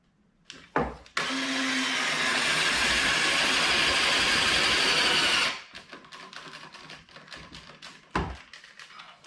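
A cordless battery screwdriver whirs loud and steady for about four seconds while driving a screw into the underside of a wooden swinging deck day-bed, followed by short clicks and taps of handling.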